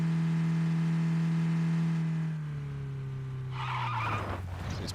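Car in the video game PUBG, engine droning steadily then dropping in pitch before a rough burst of tire skid and scraping near the end, loud and close with no talk.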